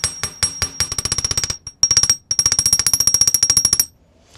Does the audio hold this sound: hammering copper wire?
yes